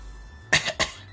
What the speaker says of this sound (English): Every time I cough, I say I'm dying.